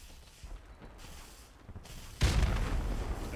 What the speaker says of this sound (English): I threw a bomb, nade on A